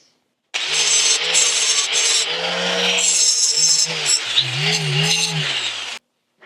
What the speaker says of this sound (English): So I'm going to clean this up with the grinder.